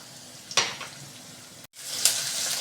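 Peas and capsicum tipped into hot oil with pink-fried onions for Indian poha, two bursts of loud close sizzling with a short break between them, then a steady crackle.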